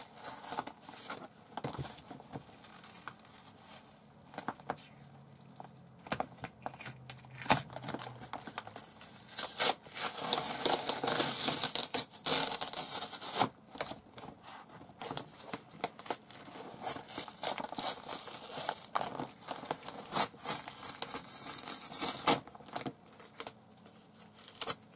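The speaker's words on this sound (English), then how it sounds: "she's covered the outside with homemade tape from, it feels like napkins. Let's see if I can get it off of here." Homemade tape made from napkins being peeled and torn off a package: steady crinkling, tearing and rustling with frequent sharp crackles, close and fairly loud throughout, with no talking.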